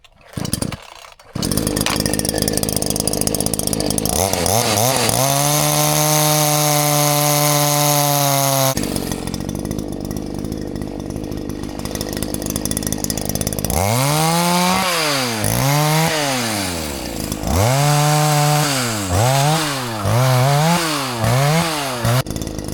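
A small chainsaw cutting firewood on a snowy day: a sputtering start, then long loud sustained cutting runs with the engine revving up and down in repeated surges, close and dominant throughout.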